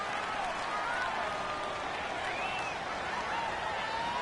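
Stadium crowd at a football game makes a steady, broad roar of cheering and murmur, with faint whistles or shouts rising through the dense wash of noise.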